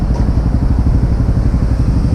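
Yamaha XT 600e single-cylinder motorcycle ridden through Athens, a steady, close, loud throbbing engine with a rapid low pulsing beat and no talk.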